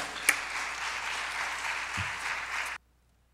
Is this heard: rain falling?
no